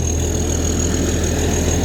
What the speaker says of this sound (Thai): เราก็ใช้เครื่องยนต์ใหญ่ครับฮีโน่ เป็นเครื่อง JO